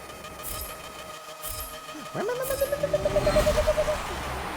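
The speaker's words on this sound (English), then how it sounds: "I love the sound of rotaries" A rotary-engined car in the Forza racing game revs and accelerates in a rising buzzy whine with rapid pulsing, at moderate volume under light background noise.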